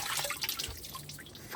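Water leaks from a fitting that is being tightened by hand, dripping and trickling quietly in a steady, close patter with no voices.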